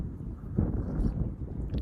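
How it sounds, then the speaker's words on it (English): Wind blowing outdoors on a spring day, a steady low rumbling buffet with a gust swelling around the middle and no voices. "It's a bit windy, isn't it?"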